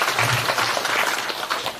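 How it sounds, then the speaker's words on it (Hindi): Audience applause at a Shrimad Bhagavat Katha religious gathering in Manali, a dense crowd clapping steadily and fairly loud across the whole moment with no voices over it. "उनके लिए भी एक बार तालियां।"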